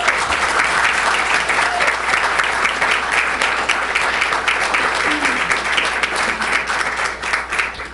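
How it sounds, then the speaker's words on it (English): A council chamber audience applauds the mayor at a Los Alamitos City Council meeting: a steady, dense wash of many hands clapping that holds at an even level for the full eight seconds, with no talk over it. "I just want to give her a round of applause."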